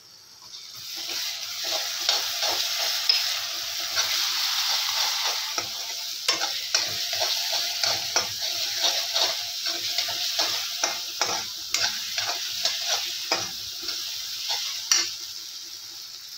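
Onion frying with ginger-garlic paste for egg keema gives a loud, continuous hiss and sizzle up close, overlaid by a long run of rapid, irregular clicks and scrapes from a stirring spoon against the pan.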